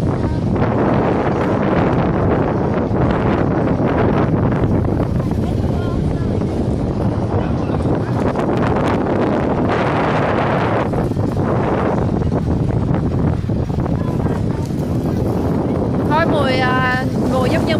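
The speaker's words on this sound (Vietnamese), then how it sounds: "Wow, sóng mạnh thiệt chứ." Strong waves splash and churn on Lake Harriet on a very windy day, a loud continuous wash of water heavily buffeted by wind noise on the microphone, with faint voices in the background.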